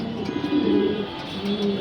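Racing pigeons cooing in a loft, low throaty coos repeating in short rolling phrases, close and steady with no talk.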